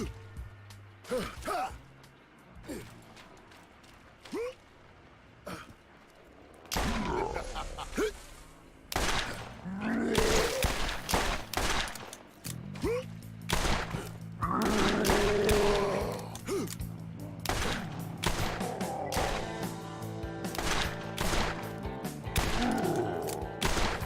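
Rapid pistol gunfire in the video game Borderlands: volleys of sharp, loud shots come in clusters, thicken into dense bursts after the first few seconds, and ring over a bed of mechanical game effects.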